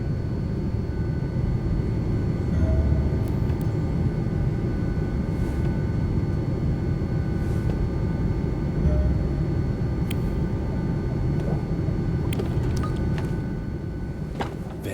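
In-flight airplane cabin ambience from the video game D4: Dark Dreams Don't Die, a steady low engine drone and broadband rumble lasting throughout with faint intermittent clicks, no voices.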